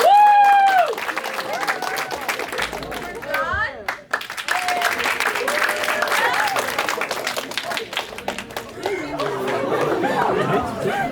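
An audience at a live show claps to vote a contestant off, with bursts of dense clapping and crowd chatter while a host's voice calls out over the noise.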